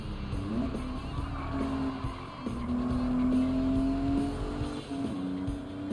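In Gran Turismo 7, a race car brakes hard and bumps across grass, the engine droning steadily with a rising whine and brief tire squeals, moderately loud with no talk.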